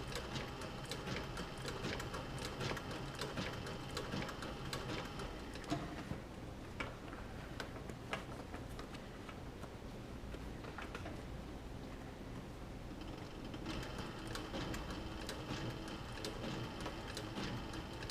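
A sewing machine stitching leather runs steadily in close, rapid mechanical stitching, with brief pauses and slower passages in the middle before the motor speeds up again.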